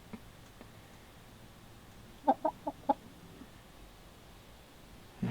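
A hen laying eggs gives a short burst of four soft clucks in quick succession, faint against a steady low background hiss.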